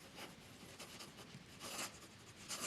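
A Parker Jotter fountain pen scratches across paper in soft, continuous strokes with brief bursts of brighter scraping, close and quiet with no talk over it.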